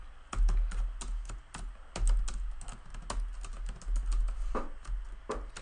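Fast typing on a computer keyboard: a quick, steady run of sharp key clicks, close and clear, over a low background hum, with no talking.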